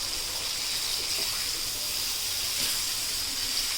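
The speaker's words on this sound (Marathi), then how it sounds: "दोन्ही साईडून आपल्याला एकदम मस्तपैकी कुरकुरीत होईपर्यंत बोंबील फ्राय करून घ्यायचे आहेत" Bombay duck (bombil) fish frying in plenty of oil on a pan, a steady close hissing sizzle that holds continuously without a break and with no voices.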